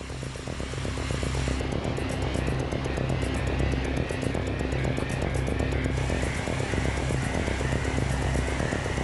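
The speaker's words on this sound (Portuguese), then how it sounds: "O acionamento do motor e o taxiamento estão dentro do horário." A test airplane's engine runs through start-up and taxi, a loud, steady, continuous drone with a deep rumble that holds evenly throughout.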